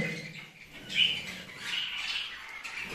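Small budgerigars squawking and chattering nearby, a few harsh calls over soft background noise.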